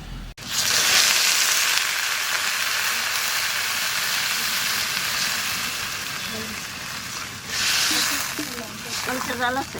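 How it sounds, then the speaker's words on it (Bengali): Snakehead fish sautés in a pan, producing a loud, continuous close sizzle that swells again near the end, while a person talks over the frying. "মাছু ভালো করে কষে নিছি"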